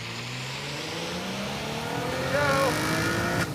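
A V6 car launches off the line under hard acceleration, the engine note climbing steadily toward about 7,000 RPM before a sharp shift, loud and close with a brief spoken phrase at the start.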